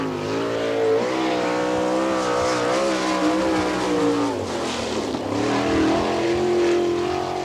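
Sprint car running a timed qualifying lap at Attica dirt track in Ohio in 1998, its engine roaring loud and continuous with rising and falling revs as it circles.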